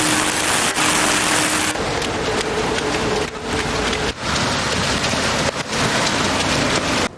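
Heavy rain pours steadily and loudly throughout a military march along a city boulevard in Kinshasa, a dense continuous hiss with a few brief dips and no voices.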